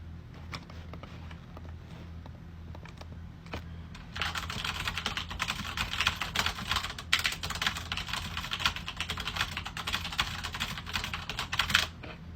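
Rapid, steady clicking of computer keys starts after a few seconds of quiet hum and continues closely, without talk.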